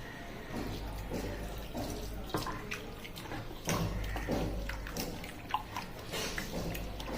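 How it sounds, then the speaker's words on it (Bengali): Water is poured into a bowl of chicken being marinated for a Gondhoraj chicken fry, a fairly quiet splashing stream with a few sharper splats and clinks, no talking over it. "এর মধ্যে পরিমাণ মতো করে জল দিয়ে নেব"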